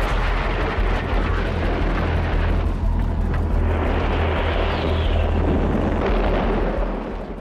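Bombers and explosions of a WWII London air raid during the Blitz form a continuous deep rumble, with heavy booms swelling and receding throughout, loud and unbroken.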